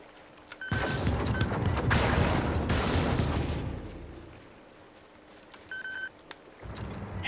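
Gunfire in the video game Helldivers, a dense burst of loud shots and blasts lasting a few seconds, then fading to quieter sporadic reports and a brief electronic tone.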